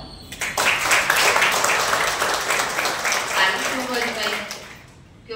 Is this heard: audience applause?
yes